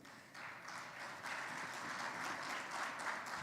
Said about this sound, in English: let's also give a round of applause for Professor McKay and the